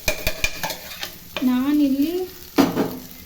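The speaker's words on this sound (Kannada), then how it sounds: "ಇದನ್ನು ರೈಸ್ ಹಾಕ್ಬಿಟ್ಟು ಚೆನ್ನಾಗಿ ತಿರುಗಿಸ್ಕೊಳ್ಳೋಣ." Boiled rice is stirred into green chillies fried in a pan for lemon rice, with quick scraping taps of the spoon at first, then a voice speaks briefly over the pan.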